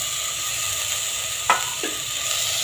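Chopped tomato is tipped into hot oil and sizzling masala for misal pav, and the steady frying hiss is broken by one sharp splash and a brief stir. No one speaks.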